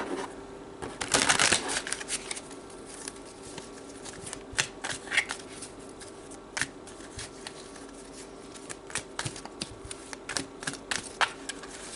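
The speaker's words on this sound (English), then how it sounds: "So let's draw some cards to see what it is that you need to heal." Tarot cards are shuffled close by, with a burst of riffling followed by scattered soft snaps and flicks of the deck in a quiet room.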